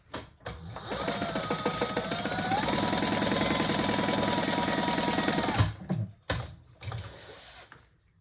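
A sewing machine runs in one steady stitching burst of about five seconds along a wallet seam, then stops, followed by a few brief handling knocks.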